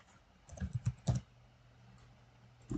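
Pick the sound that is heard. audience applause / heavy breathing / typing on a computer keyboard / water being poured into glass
typing on a computer keyboard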